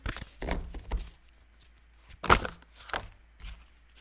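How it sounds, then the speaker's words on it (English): Tarot cards slipping out of a deck and landing on a surface, a few soft slaps and light thuds in separate bursts, close and fairly clear, without talk. "Too many cards falling out."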